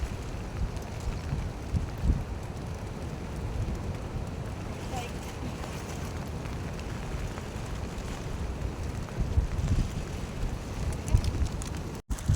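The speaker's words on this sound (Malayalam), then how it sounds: "നോക്കുമ്പോൾ നല്ല മഴയും നല്ല കാറ്റും കേട്ടോ" Strong coastal wind and heavy rain roar steadily on a rainy shoreline, a dense continuous rush with gusty swells and buffeting against the microphone, while someone talks over it.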